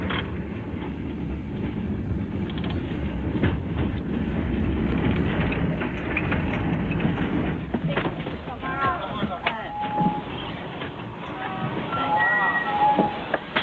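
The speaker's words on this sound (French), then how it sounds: "Madame Ma prend le tramway pour se rendre à son travail à l'hôpital." Ride aboard a city tram, with a steady rumble and rattling wheels running throughout while a narrator talks over it.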